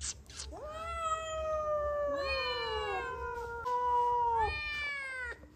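Several cats meow in a row, long rising and falling calls close by, some overlapping, from a group of six newly acquired cats.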